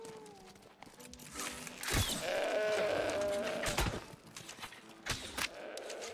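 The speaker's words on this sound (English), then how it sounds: "It's a sheep, and that's a sheep. It's another sheep." Sheep bleat repeatedly in the New World video game while hunting dusty rams, with several overlapping calls near and far against a busy background of game ambience.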